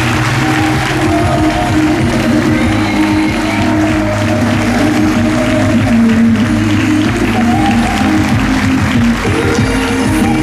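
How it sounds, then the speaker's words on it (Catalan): Loud, sustained applause from a crowd at a celebration honouring elderly people in Mora d'Ebre, continuous clapping with music or voices blended underneath throughout. "ens demanem un fort aplaudiment per a totes les persones avui homenatjades."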